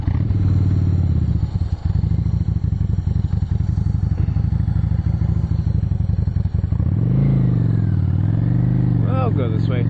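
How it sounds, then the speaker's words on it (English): A 2010 Honda Shadow Phantom motorcycle rumbles loudly and continuously while being ridden, its engine note rising and falling as it revs, with a rider's voice speaking over it. "this is, I guess, our first ride video on the 2010 Honda Shadow Phantom"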